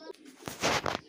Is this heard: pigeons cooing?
yes